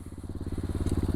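A 125cc pit bike fitted with a racing CDI idling close by, a fast, even, thumping putter with steady pulses that grow slightly louder over the short stretch.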